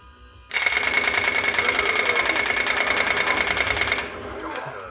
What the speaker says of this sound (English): Now I have a machine gun, so check this out.